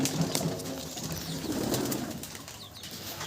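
Many Madrasi pigeons kept in an open-air loft coo softly in a dense, continuous murmur, with a few brief wing flaps and faint chirps over a noisy outdoor background.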